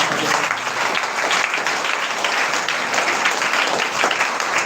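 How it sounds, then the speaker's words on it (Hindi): Loud, dense clapping from a congregation at a Sunday prayer meeting, a steady wash of applause lasting several seconds without pause. "जोरदार ताली बजाओ"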